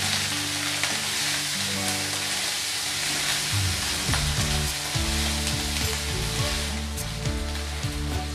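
Ginger paste and onion fry in a pan for a potato and koi fish curry, a steady crackling sizzle running under prominent background music, with no talking.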